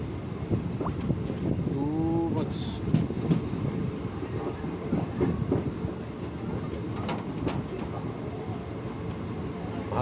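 An express train running between Warangal and Vijayawada, heard from inside a carriage: a steady rumble and rattle of wheels on the rails fills the whole stretch, with a brief screech partway through and faint voices in the background.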